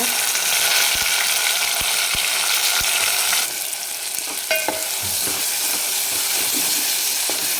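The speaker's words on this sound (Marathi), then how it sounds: "तर कांदा आपला छान आता सोनेरी कलरवर परतून झालेला आहे तर या वेळेला आपण टोमॅटो टाकून देऊया" Tomatoes tipped onto golden fried onions in a hot pan, a loud steady sizzle that briefly drops and resumes, with a few thumps and spatula knocks as the mixture is stirred, no speech.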